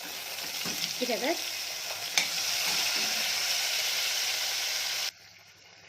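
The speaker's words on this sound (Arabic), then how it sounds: "هنحط الطماطم على الثوم واحنا بنقلب كده مع بعض عشان تفك معانا" Tomatoes poured over garlic frying in a pan while a spoon stirs them, a steady bright sizzle with a few scraping strokes early on, close up, a brief quiet word spoken, then cutting off abruptly near the end.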